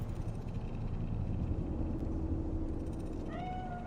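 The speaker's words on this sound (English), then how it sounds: "It's a cat like any other." A cat meows in the video game Cyberpunk 2077, set in Night City: a few rising, tonal mewing calls arrive near the end over a steady low ambient rumble.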